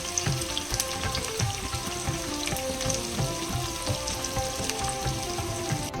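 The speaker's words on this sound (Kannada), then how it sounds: "ಇವಾಗ ಒಗ್ಗರಣೆಗೆ ಅರ್ಧ ಹಾಕ್ತಾ ಇತ್ತು" Chopped onion and mustard seeds sizzle and crackle in hot oil as a tempering for a village-style greens saaru, a dense, continuous frying hiss with scattered pops, close and alone.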